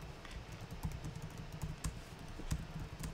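Computer keyboard typing in a lecture setting: quick, irregular clusters of close key clacks with short pauses, with no talking.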